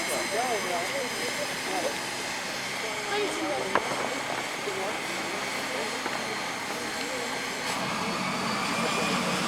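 An airplane taking off from the steep, downhill Lukla airstrip in Nepal, a steady broad engine roar holding throughout at moderate distance, with people talking over it.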